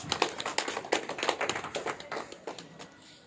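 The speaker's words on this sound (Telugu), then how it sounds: "ఒకసారి కరుణుడికి గట్టిగా చప్పట్లు కొడదాం." A live audience bursts into loud, sustained clapping at a spiritual discourse on meditation, dense hand claps rolling steadily throughout with no voices over them.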